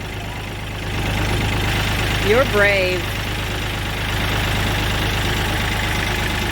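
A Kioti CK3510 tractor idles with a steady diesel rumble while being driven off a trailer, its engine note rising briefly mid-way, with a short spoken remark over it.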